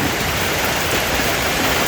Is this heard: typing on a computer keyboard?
no